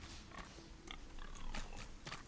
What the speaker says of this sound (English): He oinks.